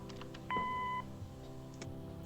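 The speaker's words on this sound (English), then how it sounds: "Leave a message after the beep." A short, steady electronic tone from an answering machine in Kathy Rain rings out for about half a second, clear and close over quiet ambient game music.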